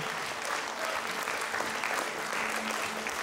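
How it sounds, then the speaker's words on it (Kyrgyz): Sustained audience applause in a conservatory concert hall after a performance by a traditional music and folk instrument orchestra, an even wash of clapping throughout with a faint tone lingering underneath. "Кол чабуулар токтобосун"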